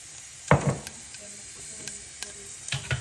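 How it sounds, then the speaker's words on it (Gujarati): Mustard seeds crackling in hot oil in a pan, a bright burst of spitting pops at first, then scattered crackles over a low hiss, close by and without speech. "તો રાઈ કકડવા માંડી છે"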